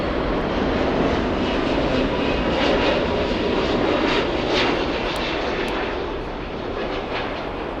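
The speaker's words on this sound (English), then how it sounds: "Stealing the spotlight, we have the Turkish A330. This is Turkish Airlines Flight 13 inbound from Istanbul." A Turkish Airlines Airbus A330 arriving at Frankfurt airport roars steadily overhead, a loud broadband jet rumble that holds strong before easing slightly toward the end.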